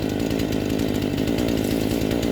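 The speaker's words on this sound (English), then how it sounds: "Make sure you got your chainsaw already running, pulling the trigger, and start your cut." A Husqvarna 18-inch gas chainsaw runs steadily and loudly at full throttle while cutting, a continuous buzzing engine drone with no pauses and no voices.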